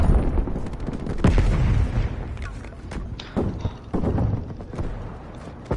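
Rapid bursts of ordinary weapon fire in a frantic shooter game, loud, dense and irregular, with sharp cracks over a constant rumble of action and intermittent talk.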